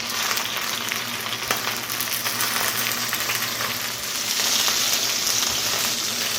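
Chicken pieces for a honey chicken rice bowl fry in oil in a pan, giving a loud, steady crackling sizzle that continues without pause and brightens slightly toward the end.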